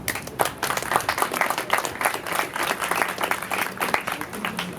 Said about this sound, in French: Je vous demande de bien vouloir l'applaudir.